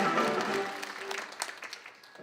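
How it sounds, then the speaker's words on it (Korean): Applause from the audience at an inauguration ceremony, a fading wash of clapping in a large hall that thins to scattered claps, with faint murmuring underneath. "소개시마다 큰 박수 부탁드리겠습니다"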